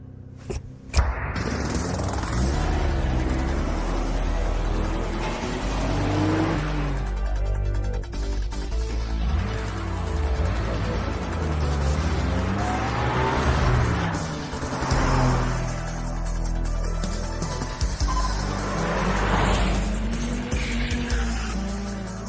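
Race cars in the Initial D arcade racing game, a Mitsubishi Evo 4 against a worn Nissan Silvia S13, rev and roar continuously at close range, engine notes rising and falling through gear changes with tire squeal.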